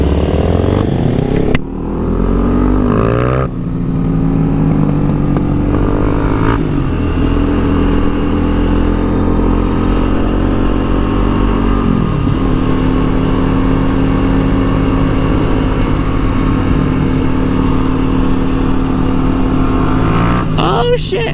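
A Kawasaki motorcycle engine revs loudly and continuously for about twenty seconds, its pitch climbing and falling through repeated throttle blips, heard close up and dominating throughout.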